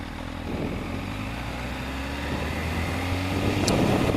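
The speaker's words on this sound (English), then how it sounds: "It does have a rather quiet exhaust, but it is the factory pipe." Low, steady exhaust drone from a 2009 MV Agusta F4 RR 1+1 motorcycle with its quiet factory pipe while riding, hum rising slightly in pitch, mixed with wind rush and no talking.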